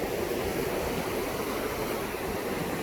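River water rushing steadily at Arayat Dam in Pampanga, a soft, even wash of flowing water with no other sounds.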